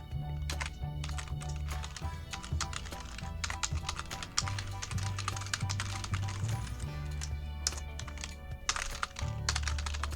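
Rapid, continuous typing on a computer keyboard while filling surnames into a Google spreadsheet, with a steady musical backing underneath.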